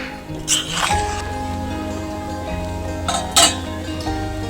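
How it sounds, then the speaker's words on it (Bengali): Broccoli payesh, a thickening milk pudding, is stirred in a pot, giving a soft scraping swirl with a couple of brief clinks of the spoon against the metal rim. "ব্রোকলিটা দেওয়ার পর একটু নেড়ে চেড়ে নিচ্ছি।"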